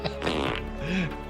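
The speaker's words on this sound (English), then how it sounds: "And that's why when Andrew drops in a fart sound" A fart sound effect dropped into a live talk show, a long, buzzy, wet rasp with a rising squeak near the end, loud and up close.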